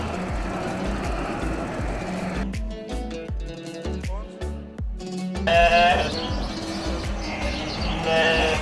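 Sheep bleat on an Amish farm, several loud, wavering calls overlapping one another, with a steady wash of farmyard background and other animal noises around them.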